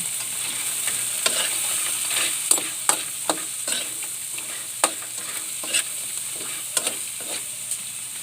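Garlic crab being stirred in a frying pan, with a steady sizzle under repeated scraping and clacking strokes of the utensil against the pan, close and fairly loud, with no voices.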